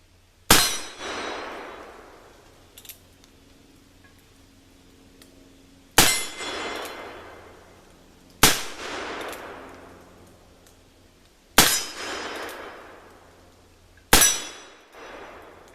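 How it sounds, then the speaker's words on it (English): Five heavy shots from a Colt 1873 single-action .44 cap and ball revolver, each a sharp crack followed by a ringing clang and long decaying ring off a steel gong at 12 yards, spaced several seconds apart outdoors. "gonna put 6 rounds on the gong down there"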